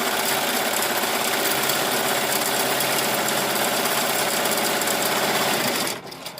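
A Melco EMT16X embroidery machine running at high speed with a cutting fault: a loud, steady, rapid mechanical whir and clatter close up that stops abruptly near the end, leaving quieter room noise, no talking.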